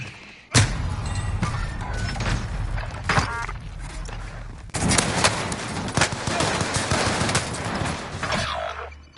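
Dense, loud automatic gunfire from a Call of Duty Warzone Plunder match on PS4, with sharp bursts and rattling volleys that break off briefly, then resume in sustained rapid fire.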